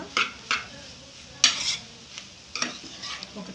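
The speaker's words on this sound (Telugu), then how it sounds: "ఒక 2 minutes ఇలా ఫ్రై చేసుకుందాం ఫ్రెండ్స్" Bread snack mashed with salt and chili frying in a pan, heard as a soft sizzle broken by a few sharp spatula scrapes and clinks against the pan, close by with no speech.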